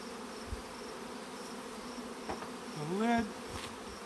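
Honey bees buzz in a steady, faint drone from an opened hive box, with a brief louder swell of buzzing midway and a few soft knocks.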